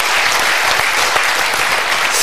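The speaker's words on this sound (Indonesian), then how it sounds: "Kita berikan tepuk tangan dulu." An audience breaks into loud, dense applause that fills the whole stretch at an even level, with no voices over it.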